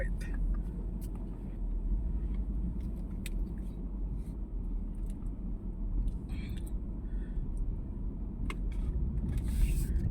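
A car engine running loudly in a Philippine vehicle registration setting, a steady low rumble throughout with rising intensity toward the end, mixed with people talking nearby.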